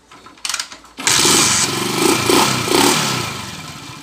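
Uncle's motorcycle with soft, low compression is started after a few cranking bursts, then settles into a loud, steady running engine close by with slight revving.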